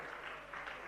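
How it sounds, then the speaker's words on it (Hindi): Applause from an audience at a Jain religious discourse hall, a steady continuous patter of many hands clapping at moderate loudness, with no one talking over it. "और जरा आप सबकी तालियां बजेंगी।"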